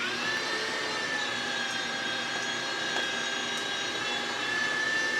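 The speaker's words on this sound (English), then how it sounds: "I'm grinding it nice and coarse." An electric meat grinder grinds coarse meat for andouille sausage, giving a steady, loud motor whine and hum that holds evenly throughout, close and with no talk.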